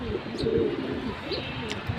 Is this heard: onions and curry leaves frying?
no